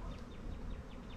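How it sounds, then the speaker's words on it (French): A honeybee swarm shaken from a tree branch into a bucket at an apiary gives a steady, dense insect buzz that holds throughout, with faint higher whirring passes over the low hum. "Il a secoué la branche. Les abeilles sont tombées dans le seau."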